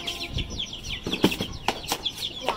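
Young chickens cluck and cheep at close range while being fed grain, with high chirps, scattered pecking clicks and brief wing flutters in an irregular flurry.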